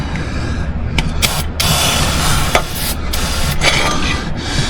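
Loud, close bursts of brake cleaner aerosol hiss come in several sprays of varying length, with faint rubbing and clinks against a wrench between them.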